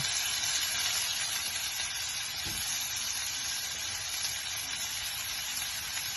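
Shrimp sizzling in a hot pan for Jamaican pepper shrimp, a steady dense frying hiss throughout with a soft thud from the pan partway through.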